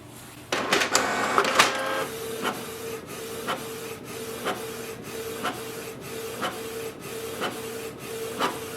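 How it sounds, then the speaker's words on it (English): Canon Pixma TS3700-series inkjet printer printing a nozzle check pattern: a burst of mechanical whirring and clicks, then a steady rhythm of regular soft clicks about every half second as the print head passes. "do you want to print the nozzle check pattern?"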